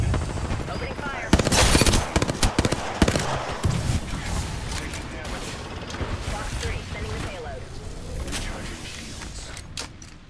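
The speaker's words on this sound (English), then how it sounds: "Opening fire." Rapid gunfire bursts in the Apex Legends battle royale game, dense cracking volleys early then scattered shots and mechanical clatter, fairly loud, with game voice lines in the mix.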